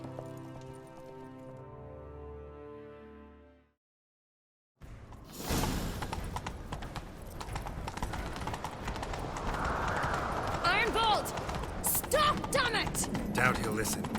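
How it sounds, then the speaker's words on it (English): A horse gallops in a chase in the video game The Witcher 3, rapid rhythmic hoofbeats pounding under game effects and ambience, steady and close after a short musical passage and a pause. "Grab a horse, we'll chase him down."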